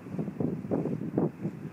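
Gusty wind buffets the microphone on a fishing pier by the ocean on a bright, sunny day, rising and falling in low rumbling surges with no talk.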